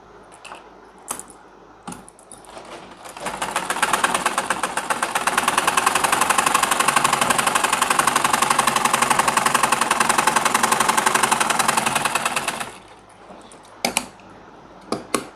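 Sewing machine stitching a pajama pocket, a loud rapid mechanical chatter running continuously for about nine seconds, with quieter clicks and handling sounds before and after.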